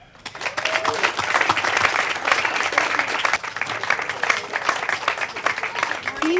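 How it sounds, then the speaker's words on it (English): Outdoor crowd at a park and fire station groundbreaking ceremony in Folsom applauds steadily after a quiet start, with faint voices and cheers mixed into the clapping. "So let's give one more round of applause to staff."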